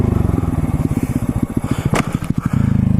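A motorcycle rolling at about 20 with the clutch pulled in brakes hard into a stoppie, producing a rapid, pulsing engine chatter up close that stutters and clatters, with a sharp scrape near the end before the steady idle resumes.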